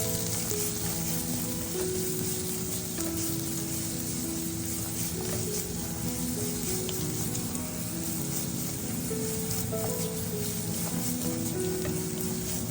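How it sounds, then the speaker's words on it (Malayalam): A medium-sized onion sautéing in a pan for a potato roast makes a soft, continuous sizzle at a moderate distance, holding steady throughout with no talking. "ഒരു മീഡിയം സൈസ് സവാളയും കൂടെ ഇട്ട് വഴറ്റിയെടുക്കാം."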